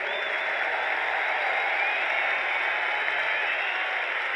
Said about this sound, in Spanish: Ese aplauso para ellos, por favor